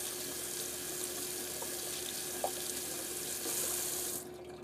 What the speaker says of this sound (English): I'm just going to rinse my razor off while I have the water running.